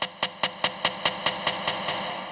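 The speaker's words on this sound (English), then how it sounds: "All we need is a little snare roll like this." Snare roll for a melodic dubstep build-up, about ten evenly spaced crisp snare hits rolling over a couple of seconds, gradually softening and smearing into reverb.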